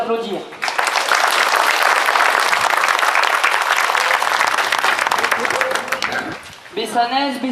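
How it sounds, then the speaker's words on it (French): Sustained audience applause at a 2014 Bastille Day ceremony in Bessan, France: a dense, steady wash of clapping for about six seconds, then a voice begins speaking at the end. "Nous pouvons l'applaudir."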